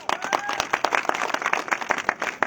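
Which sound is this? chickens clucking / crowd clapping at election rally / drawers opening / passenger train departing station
crowd clapping at election rally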